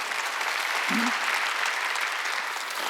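A church congregation at a Korean Wednesday worship service bursts into loud, dense clapping that fills the room continuously and evenly for the whole stretch.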